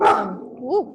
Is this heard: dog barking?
yes